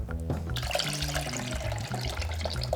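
Liquid poured out of a Lomo daylight 35mm film developing tank, a steady close gurgling stream into a sink that runs throughout with small splashes, with no talking.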